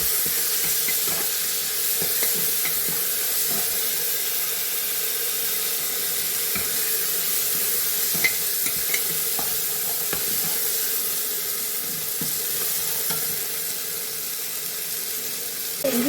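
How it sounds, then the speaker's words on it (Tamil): Ginger garlic paste sautéing in a pan for a mutton and potato curry, giving a steady soft sizzle and hiss throughout with a few faint clinks, no talking. "இது நல்லா பச்சை வாசனை போகிற அளவுக்கு வதக்கி விட்டுக்குங்க"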